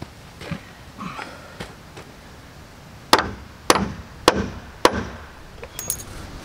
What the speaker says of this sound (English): I'm gonna hammer it down a little bit more